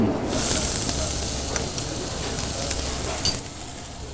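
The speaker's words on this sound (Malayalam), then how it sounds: "ഇത് കഴിഞ്ഞിട്ട് നമ്മൾ ഇടാൻ വന്നത് ജിഞ്ചർ ഇഞ്ചി ചെറുതായിട്ട് കൊത്തി" Finely chopped ginger frying in hot oil with cumin, a loud close sizzle and hiss that carries steadily with occasional stirring crackles, no speech.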